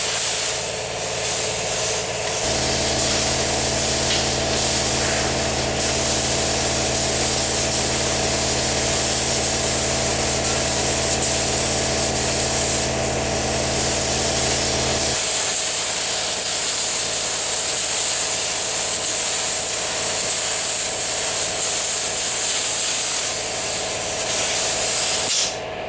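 Spray gun applies Corvette black paint over a car with vinyl graphics, a continuous loud hissing spray with a droning compressor underneath that cuts out partway, then the hiss carries on alone.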